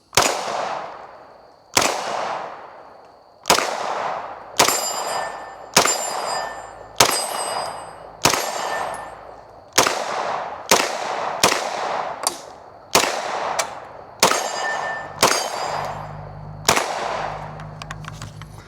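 A Stribog SP9A1 9mm carbine fires single shots at steel targets outdoors, with about fifteen sharp, loud reports in an uneven rhythm, each followed by a brief ringing clang and a short decay.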